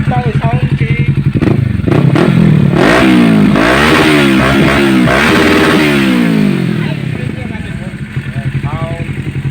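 A Kawasaki Ninja 650 fitted with a Daeng 4 muffler revs repeatedly, its loud, close exhaust climbing and falling in sharp bursts before settling toward idle, with people talking nearby.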